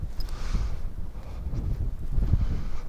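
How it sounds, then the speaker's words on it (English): Cold winter wind at minus 28 blows hard against the microphone outdoors near a duck enclosure, a continuous low rumbling buffet with gusts and no talking. "Oh, that wind."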